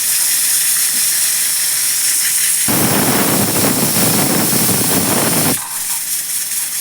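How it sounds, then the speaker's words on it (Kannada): A pressure cooker cooking bele sambar on a gas stove lets out a loud, close steam whistle, a sustained hissing blast that swells sharply mid-clip for about three seconds before easing back to a steady hiss. "ಇವಾಗ 5 ವಿಸಿಲ್ ಆಯಿತು."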